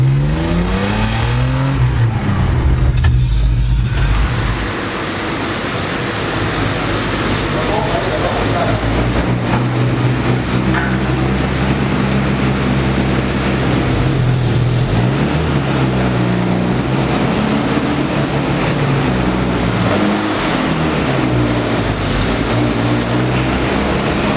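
A car engine runs close by, with a loud rev near the start and then a steady, rumbling drone that rises and falls with gear changes, as people talk over it.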